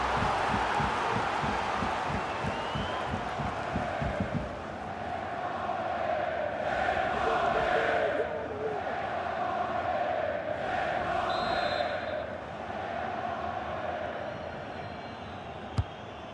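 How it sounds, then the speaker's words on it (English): A stadium crowd in the video game FIFA 23, Borussia Dortmund vs. Sevilla at Signal Iduna Park, roars in a steady wash of cheering that swells and dips in waves over about sixteen seconds. "Well, the crowd are doing their bit."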